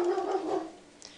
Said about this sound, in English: And that goes my dog barking in the background.